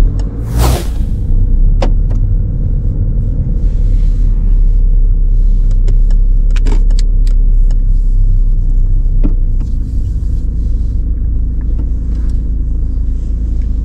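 A car engine drones at a steady, loud level from inside the vehicle during a driving lesson, with a few sharp clicks and knocks over the constant rumble.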